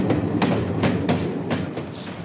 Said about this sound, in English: that special clonk-clonk of the wheels of the train over the often too expanded